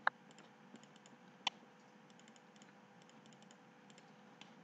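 Computer keyboard keys tapped while working in AutoCAD: quiet, sparse clicks and short bursts of typing, with a couple of sharper key strikes, alone over low room hum.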